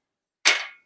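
A cork pops out of a bottle of 114-proof Old Grand-Dad bourbon whiskey: one sharp, close, loud pop that fades over a short ring, with silence before and after.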